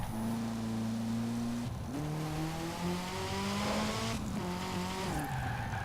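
A Lego Ferrari F40 in the Forza Horizon 4 racing game revs hard, its engine tone climbing through several gears with brief drops at each shift, loud and close, with faint tire noise underneath.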